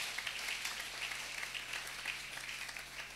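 A church congregation at a Sunday service claps in a steady, moderately distant round of applause that lasts throughout.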